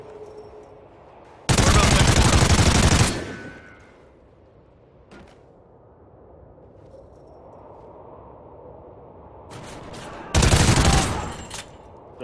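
Gunfire in a multiplayer shooter video game, two loud sustained bursts of rapid automatic fire about eight seconds apart, with a faint single pop between them against quiet game ambience.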